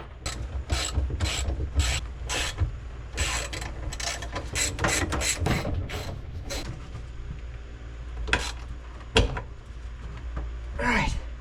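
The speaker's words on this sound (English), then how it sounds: "Now I'm just going to start by lightly pulling in top two fasteners just to kind of get it sort of sealed a little." A ratchet pulls in the top fasteners on a 1980s Donzi boat transom during a rebuild. Quick bursts of clicking come in uneven runs of strokes, close and fairly loud, with a bit of voice mixed in between.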